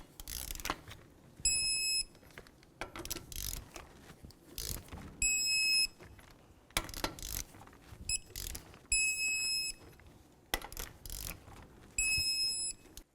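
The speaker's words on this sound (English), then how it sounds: "We're going to continue torquing these lug nuts in a crisscross manner to 76 foot-pounds." A click-type torque wrench ratchets through a Scion xB's wheel lug nuts one after another, each run of quick clicks ending in a bright electronic beep as the set torque is reached, repeating in a steady cycle close by.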